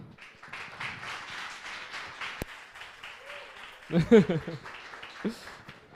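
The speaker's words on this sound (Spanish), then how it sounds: "darle un fortísimo aplauso, por favor, a Manuel." An audience at a talk about colonizing Mars applauds a speaker with steady, fairly soft clapping that runs throughout, while a voice speaks over it and a louder burst comes near the end.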